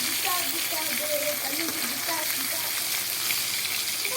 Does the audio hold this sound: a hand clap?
no